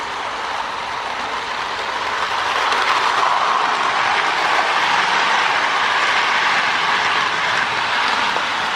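A Marx toy train powered by a 333 motor, with a working smoke unit, runs along its track with a steady, loud whirring rumble and faint clatter that swells slightly midway.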